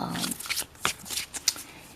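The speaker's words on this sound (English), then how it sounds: "Okay, so we'll shuffle now" Tarot cards being shuffled by hand in a quiet indoor setting, a brisk papery riffling at the start followed by several soft, scattered card slaps and shuffles, close and moderately quiet.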